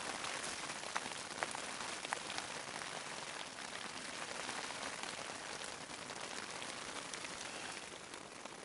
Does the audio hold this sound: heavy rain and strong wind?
yes